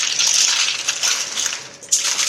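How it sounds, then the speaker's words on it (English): Close, loud crinkling and crunching of aluminium foil folded around a cheesecake for freezing, a continuous papery rustle that dips briefly and then swells again. "I like to wrap up the sides. I have 2 pieces of foil laid down,"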